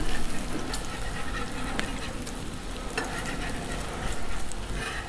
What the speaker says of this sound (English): the bacon's cooking up